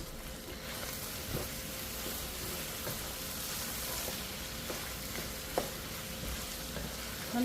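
Food with a splash of soy sauce fries on a stovetop, keeping up a steady, close sizzle with a few faint scrapes of stirring and no voices.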